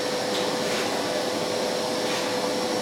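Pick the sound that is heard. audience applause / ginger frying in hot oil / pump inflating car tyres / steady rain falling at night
pump inflating car tyres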